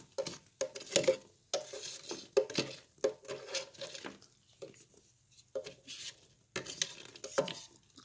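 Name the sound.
scooping popcorn in WestBend theater popcorn machine kettle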